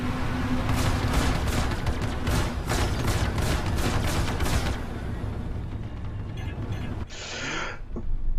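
Spaceship guns in Star Citizen fire a rapid rhythmic burst of repeated shots for several seconds, then fade into a low engine rumble with a brief hiss burst near the end.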